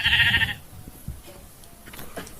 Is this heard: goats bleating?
yes